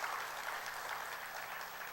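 A lecture audience gives thankful applause to a lawmaker, a dense, even wash of clapping heard at a modest distance for about two seconds without pause.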